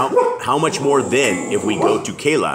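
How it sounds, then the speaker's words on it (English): Dogs barking and yipping in quick, uneven bursts across the clip, partly masked by a person reading aloud over them. "sorry for the dogs. Not much we can do."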